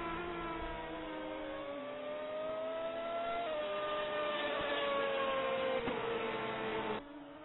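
A race car crosses the start-finish line in the closing seconds of a Toprace sim race, its engine note rising and falling through gear changes, loud and close, then cutting off abruptly.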